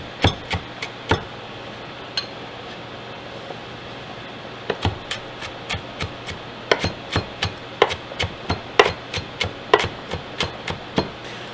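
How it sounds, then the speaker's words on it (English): A knife chops red onion on a cutting board in sharp, close clacks, first a few scattered strikes, then a quicker uneven run of hits, with no talking. "so I'm going to go ahead and just chop them up a little smaller"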